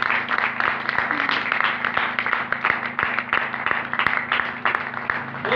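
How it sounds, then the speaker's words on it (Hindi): Applause from a church congregation at a Christian sermon, a steady patter of many hands clapping under a continuous low hum, with brief voices mixed in. "अरे यीशु के लिए पर जोरदार ताली"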